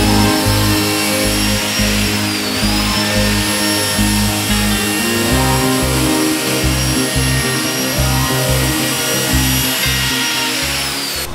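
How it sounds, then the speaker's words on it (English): A cheap belt sander runs steadily over an old discarded wooden bench, giving a loud continuous motor whine with a rough, pulsing grind as the belt moves across the wood. "We're going to be using the belt sander"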